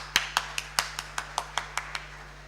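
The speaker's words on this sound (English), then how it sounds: "So give yourselves a big round of applause" Sparse clapping at an HR meet event, about ten distinct, separate claps spaced evenly apart, fairly faint over a low steady hum, with no crowd roar behind them.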